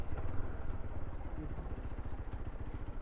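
A motorcycle engine runs steadily at a low idle-like rumble, close and continuous, on a high mountain road at Sarahan on the Indo-Tibet route.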